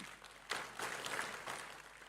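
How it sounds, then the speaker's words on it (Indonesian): A church congregation applauds at a worship service, a soft, steady wash of many hands clapping. It sounds somewhat distant and continues without a break for about two seconds. "tepuk tangan dong"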